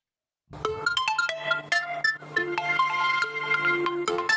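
A mobile phone ringtone plays a bright, repeating electronic melody, loud and close, with no one talking over it.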